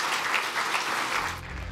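Applause for the Gyeongsangbuk-do provincial governor at an investment event with Japanese business leaders, a steady wash of clapping from a large audience that thins slightly toward the end.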